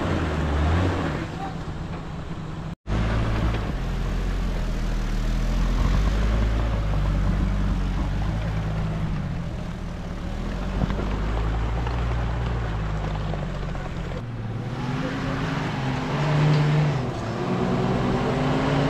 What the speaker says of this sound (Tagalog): Lakas ng winch niya oh. Electric winch lang oh.